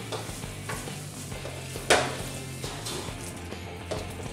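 Spices being stirred into pav bhaji in a pan: a soft scraping stir under a low steady sizzle, with one sharp utensil knock near the middle.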